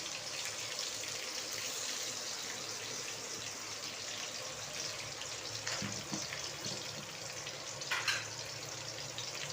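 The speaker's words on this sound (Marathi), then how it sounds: "मिरची चांगली भाजून द्यायची त्याच्यामध्ये" Steady sizzling hiss of green chilies roasting in a hot pan, continuous and fairly close, with a couple of brief louder crackles near the end and no talking.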